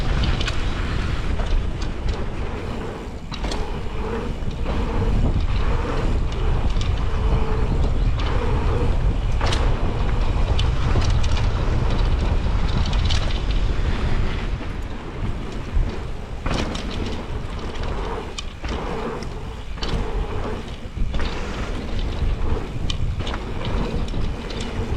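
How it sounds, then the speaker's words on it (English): Strong wind gusting steadily at Isaberg bike park, a loud continuous low rumble buffeting throughout with no talking. "it is windy today"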